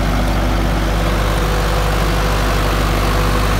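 An Indo Farm tractor pulling a new 7-foot rotavator through soil runs loud and close, its engine a steady, unbroken low throb with no talk.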